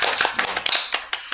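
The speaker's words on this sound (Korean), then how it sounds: "오세정 선생님께 박수 한번 치도록 하겠습니다" An audience at a live exam-prep broadcast claps for a teacher in a brief, loose burst, a few distinct hand claps, close and fairly loud, with no talking.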